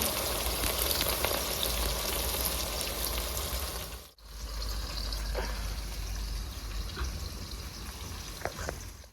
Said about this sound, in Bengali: বেরেস্তাটা ভাজা হয়ে গেছে